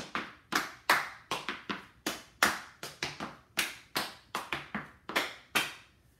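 Hands clap in a steady rhythmic pattern during a clogging dance routine, about a dozen crisp, close claps spaced unevenly in pairs and singles, with faint tapping in between.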